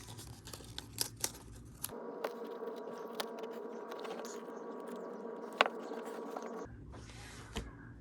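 Adhesive tape is pulled and pressed onto a box ukulele's wooden heel block and spacer, a steady close rasping peel lasting a few seconds between light handling clicks.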